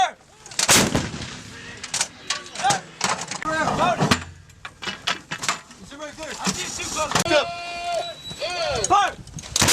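Artillery fire during a live-fire assault exercise by US Marines and Australian Army, with heavy booming shots and sharp reports repeating across the stretch, loud and close, mixed with shouted commands and radio-like voices.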